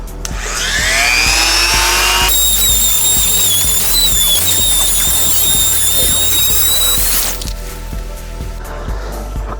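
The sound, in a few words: power tool grinding a headlight housing to shape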